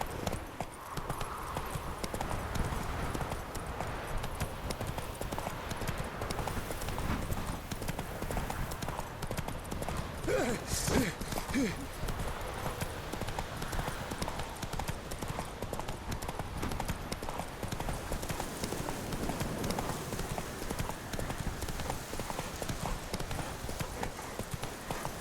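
Hooves pound steadily as Roach gallops in The Witcher 3, an unbroken rhythmic clip-clop lasting the whole stretch at moderate level over soft game ambience.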